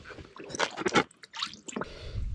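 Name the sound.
squirting cleaning solution through Perkins diesel coolant ports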